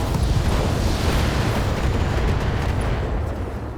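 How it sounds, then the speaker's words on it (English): A volley of LRM missiles slams into targets in the BattleTech video game, a dense, continuous rumble of explosions holding steady and loud before easing slightly at the end. "I think we go ahead and fire one more round of LRMs."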